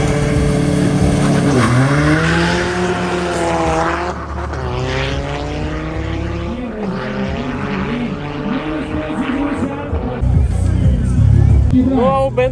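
A SEAT Ibiza and a Bentley W12 accelerate side by side in a drag race, with loud engines rising in pitch through the gear changes. A commentator talks over the sustained roar.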